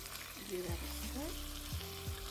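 A pot of chili with browned meat and canned chili-ready tomatoes is stirred, giving soft scraping and sloshing strokes under a low, quiet simmer.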